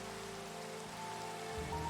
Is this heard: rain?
yes